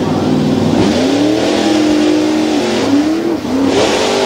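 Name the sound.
modified tuff truck engine revving at race event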